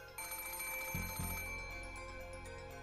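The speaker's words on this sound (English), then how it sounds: "If this isn't magic making this phone ring, you lied." A telephone rings inside the Umineko visual novel, a steady electronic bell tone with bright sustained overtones that holds loud and close throughout, with a low thud partway through.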